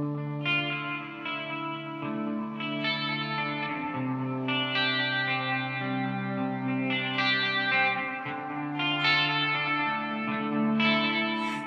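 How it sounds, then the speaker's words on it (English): A Binson Echorec tape echo unit on its short head, with playback heads 2 and 4 engaged, turns sustained instrument notes into a dense, ambient wash of repeating delays and reverb that carries on steadily throughout. "it's more of almost like a ambient kind of reverb mixed with a little bit of delay, but using delay to achieve that effect"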